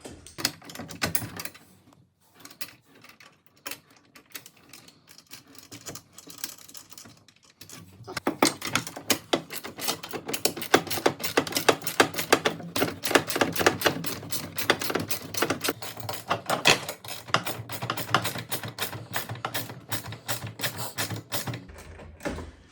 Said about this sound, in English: we will take our 11mm wrench and socket and get that tightened down